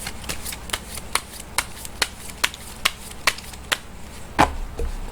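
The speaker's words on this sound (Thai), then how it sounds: "เดี๋ยวจะมาเสี่ยงไพ่ยิปซีดูให้เพิ่มเติม นะว่าดวงชะตาของคุณในวันนี้จะเป็นอย่างไรบ้างนะครับ" A deck of tarot cards shuffled by hand during a daily horoscope reading, a steady series of sharp snapping riffles about every half second, close and clear, ending in a couple of heavier shuffles with no speech.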